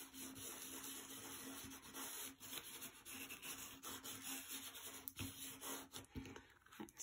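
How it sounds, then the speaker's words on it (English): Glitter is rubbed into a cardmaking flower panel by hand, making a soft, continuous scratchy rubbing that swells and fades in strokes. It is quiet and close, with no talk. "I'm just going to kind of rub it in a little bit"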